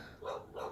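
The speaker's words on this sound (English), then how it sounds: "Barking. That's my dog." A dog barks twice near a backyard shed full of tools, two faint, muffled barks in quick succession heard from some distance indoors.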